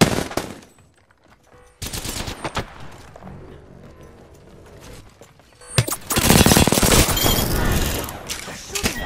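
Enemy gunfire in a shooter video game: dense bursts of automatic fire in close, loud volleys, with a quieter lull before heavy sustained shooting returns.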